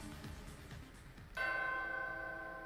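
A doorbell in the Danganronpa Ultra Despair Girls video game rings out in one struck, bell-like chime that rises suddenly and then sustains with a bright ringing tone, faintly heard over quiet background sound.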